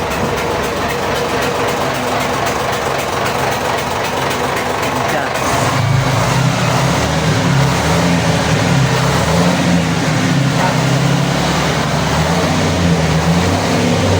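Loud, steady boat engine rumble that grows deeper and heavier about halfway through, the motor idling and warming up nearby, with voices faintly underneath.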